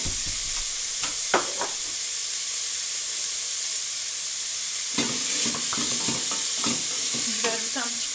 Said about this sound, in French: je vais mettre l'ail et l'oignon émincé. Et je vais faire dorer un petit peu.